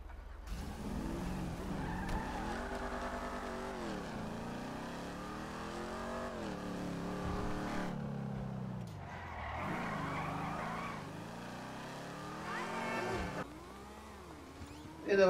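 A Ford Mustang in Grand Theft Auto 5 drives hard. The engine revs rise and fall through the gears, tires squeal and skid, and one short pause breaks the run. No talk is heard.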